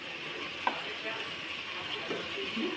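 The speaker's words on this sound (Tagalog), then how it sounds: "Okay po, ayan na po, kumukulo na po siya." A pot of creamy chicken curry simmers at a low, steady boil, giving a soft, continuous bubbling hiss with faint irregular pops and a light clink near the start.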